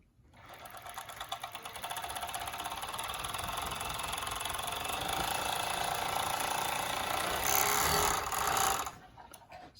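A Juki 6814 two-needle, four-thread overlock machine runs steadily while sewing fabric, a close, fast mechanical whir and rattle that holds for several seconds, briefly intensifies near the end, then stops.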